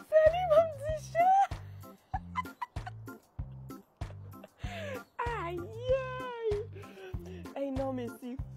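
A cat meows repeatedly in a series of rising, drawn-out cries, close and clear, over a steady rhythmic thumping beat.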